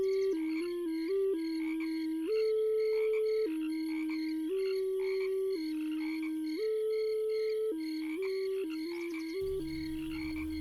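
Clear, sustained ocarina melody of held tones shifting in pitch, played alone with no voices, with a faint low rumble entering near the end.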